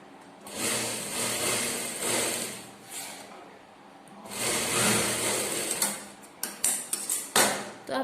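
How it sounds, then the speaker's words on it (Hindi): A sewing machine stitches a half-inch seam on a plain blouse, running in steady whirring bursts with short pauses, then a few quick clacking stops near the end; no talking. "अब यहाँ पर हमें आधा इंच का जो सिलाई मारते हैं"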